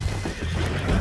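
A horse in the Red Dead Redemption 2 video game whinnies and snorts close by, a rough, noisy neigh that runs through the whole moment with some game ambience underneath.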